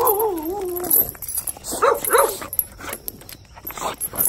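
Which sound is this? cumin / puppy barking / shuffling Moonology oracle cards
puppy barking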